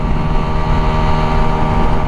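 A Lexmoto LXR 125 SE motorcycle engine revs hard just below its 9,000 RPM red line at about 70 mph, a loud, steady, high-pitched drone mixed with wind rush and no speech.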